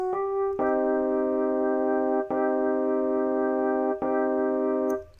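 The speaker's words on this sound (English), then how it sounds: "Minor chords usually sound a little bit darker" Dark minor chords for a trap beat, three sustained synth-like chord hits after a short pickup note, each ringing steadily about two seconds before the next, loud and clean with no talking.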